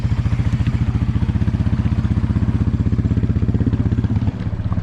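A Big Red ATV engine runs steadily in first gear, a loud, close, rapid pulsing putter that holds an even rhythm throughout, with a brief dip near the end.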